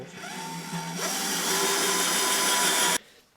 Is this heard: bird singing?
no